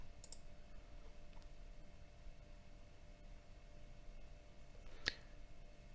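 A computer mouse right-click: one short, quiet click near the end over a faint steady hum.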